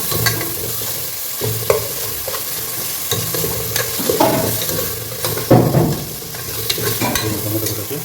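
Tomatoes fry in a pan and get stirred, giving a steady sizzle with scraping spoon strokes that flare louder now and then throughout, with no talking.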